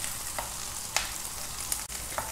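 Vegetables, broccoli with garlic, frying in a pan over a low flame for white sauce pasta, a soft continuous sizzle broken by a few brief stirring clinks.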